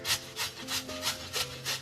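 Carrots being grated for gajar ka halwa, about six rhythmic rasping strokes on a grater, close and even-paced, with no talking.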